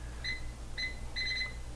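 Kitchen timer set while chickpeas cook in a pressure cooker, giving three short bursts of high electronic beeps, the last burst longer and warbling, moderately loud over a steady low appliance hum.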